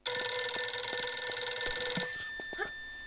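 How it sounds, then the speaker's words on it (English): A telephone rings in a Tomb Raider custom level, a bright, steady electronic ring pulsing evenly for about two seconds, then cutting off and leaving only faint game sounds. "The phone ringing again."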